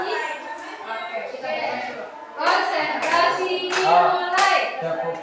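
A class of children doing the concentration clapping game, with bursts of sharp hand claps in quick rhythmic groups mixed with a teacher's voice and kids calling out, lively and close.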